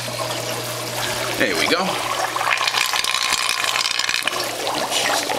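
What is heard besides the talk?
Aqualifter pump pushing water and air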